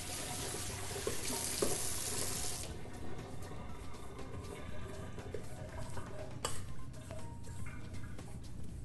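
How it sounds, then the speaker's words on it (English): Tap water running into a sink as hands are washed after handling apples in a home kitchen, a steady broadband rush close by that eases partway through, with small clinks and splashes and no talking. "Give my hands a little wash after handling the apples"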